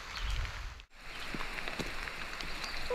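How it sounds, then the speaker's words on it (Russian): Heavy rain pours in Cuba's Viñales Valley, a soft, even hiss of drops on surfaces that continues throughout, with one brief dip near the start and no speech. "Сложно сделать фотографию, достаточно сильный дождь сейчас льет."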